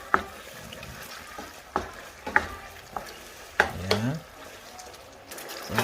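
Sweet and sour sauce bubbling and sizzling in a pan as chicken is added, with repeated stirring scrapes and clinks over a soft simmering hiss, and brief talk in between.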